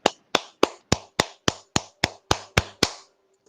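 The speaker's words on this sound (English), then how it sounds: "Let me clap" One person claps alone, eleven sharp, close hand claps at a steady rhythm, then a moment of quiet.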